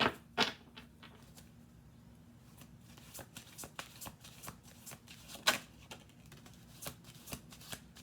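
Tarot cards riffle and flick in a run of quick, soft snaps, close by, with short pauses between bursts.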